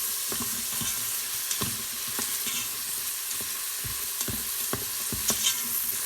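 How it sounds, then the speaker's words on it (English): A tablespoon of minced garlic sizzles steadily in an Instant Pot while a utensil scrapes and taps through it in repeated stirring strokes, close and without talk. "I want to constantly stir because I do not want my garlic to burn"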